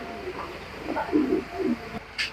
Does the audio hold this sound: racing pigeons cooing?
yes